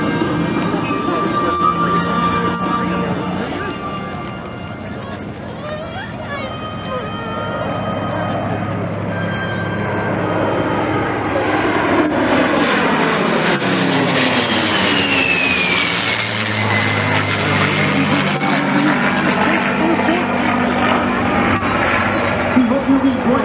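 Military airplanes roar past at an airshow heritage flight, engines swelling loud with a sweeping pass and a falling Doppler tone, while a voice talks over a public address.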